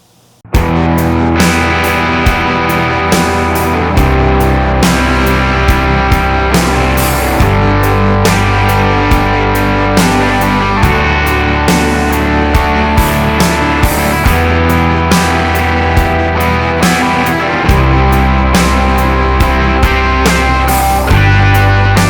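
An electric guitar with its reverb pulled back plays a loud, continuous riff with a band, its distorted chords ringing in repeated phrases and sitting tight in the mix throughout.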